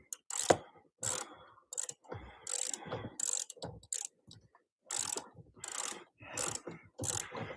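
A ratchet wrench with a U-joint socket working a fastener on a Nissan Altima, close, quiet bursts of rapid clicking in short repeated strokes separated by brief pauses.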